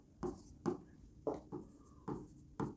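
Writing by hand during a chemistry lesson, likely chalk or marker on a board, making about six short scratchy strokes with brief pauses between them, quiet and close, with no voice over them.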